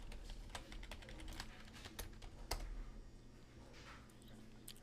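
Quiet, rapid typing on a computer keyboard as a password is entered for a Monero cryptocurrency wallet, a run of irregular clicks with one sharper keystroke near the middle.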